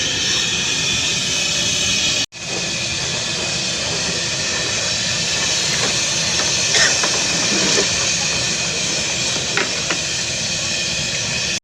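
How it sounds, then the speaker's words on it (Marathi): A large pot of masala dal boils vigorously for a communal feast, giving a loud, steady hissing roar that cuts out for an instant early on, then resumes evenly. "डाळीला मस्त उकळी फुटलेली आहे"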